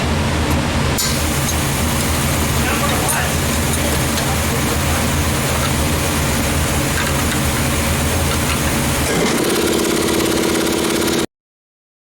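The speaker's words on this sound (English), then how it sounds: "Now that the other compressor's done running" Air compressor running loud and steady with a constant mechanical drone throughout, the tone dropping near the end before the sound cuts off.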